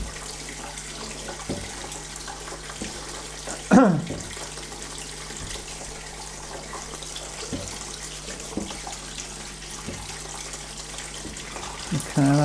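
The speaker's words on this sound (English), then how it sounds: "I'll just continue agitating the fixer." Photographic fixer liquid is rocked in a developing tray, making faint rhythmic sloshes and soft splashes roughly every second over a low steady hum, with one louder splash partway through.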